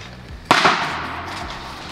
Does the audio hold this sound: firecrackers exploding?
yes